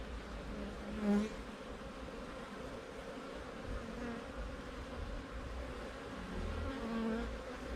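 Honeybees buzz steadily around an open beehive during a September queen change, a continuous low, fairly quiet drone with slight swells as individual bees pass closer, with no voices.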